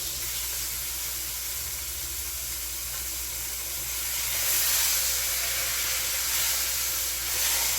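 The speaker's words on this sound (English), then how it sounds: "I'll go ahead and cook the other side and try to get as much color as possible." A roast beef sears in a hot pan, giving a steady loud sizzle and hiss of frying fat that swells slightly partway through, with no talking.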